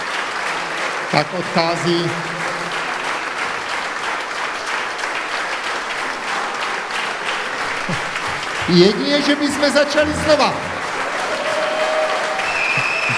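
Sustained applause fills a concert hall after a performance by a folk band with a school symphony orchestra, steady dense clapping throughout while someone talks over it.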